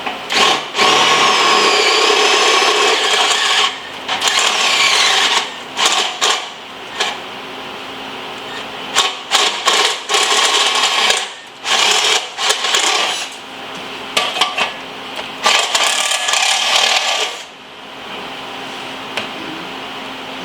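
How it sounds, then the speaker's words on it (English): A power drill with a step drill bit whines loudly through sheet metal on a motorcycle fender in repeated bursts, stopping and starting with short pauses between runs. "so I'm going to use the step drill."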